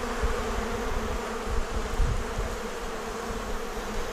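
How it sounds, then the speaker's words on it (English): Honey bees buzz steadily around a hive kept on a balcony, their wings making a dense, continuous hum close by, with no talking over it. "There's the sound of all the bees buzzing their wings."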